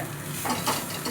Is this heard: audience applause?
no